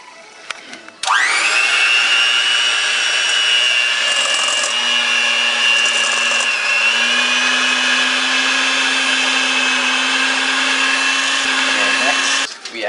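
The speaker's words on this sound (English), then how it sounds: "we take our beater and we mash this substance up until it is creamy" An electric hand beater whirs continuously while creaming cookie dough in a bowl, a loud, steady motor whine that starts abruptly, runs for about eleven seconds with a slight pitch dip midway, then cuts off.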